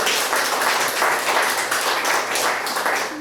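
Audience applause at a talk on voting integrity, steady dense clapping from a crowd filling the whole stretch without pause, no voices over it.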